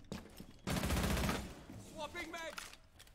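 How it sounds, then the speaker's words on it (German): Rapid burst of gunfire in the tactical shooter Rainbow Six Siege during a PC esports semifinal, a loud sustained volley followed by quieter scattered sounds, with a commentator talking over it. "Ja, ja, die Schüsse kommen schon."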